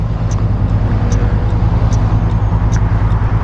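Kymco AK 550 maxi-scooter cruising on a road, a steady engine drone and wind rumble running throughout, with faint regular ticks above it.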